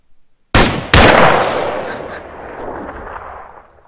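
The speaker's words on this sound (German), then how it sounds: "Und Schuss!" Two sharp, loud gunshots from a firing squad in quick succession, the second followed by a long fading echo, with a brief voice just before.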